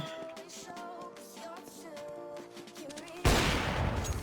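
A Nova shotgun in the video game CS:GO fires one loud, abrupt blast late in the sequence, breaking a quieter stretch of in-game sound and ringing on until the end.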